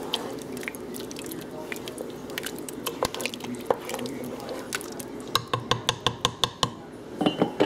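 Chili being stirred in a pot after a tablespoon of chili powder goes in, giving repeated wet scraping and clinking strokes that quicken into a steady run of sharp taps near the end.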